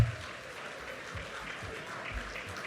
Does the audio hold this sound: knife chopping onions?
no